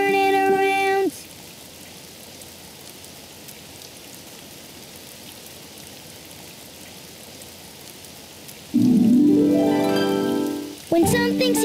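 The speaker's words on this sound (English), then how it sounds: "Oh, it's raining outside." Rain falls steadily outside in a soft, even patter, framed by bright musical tones at the start and near the end.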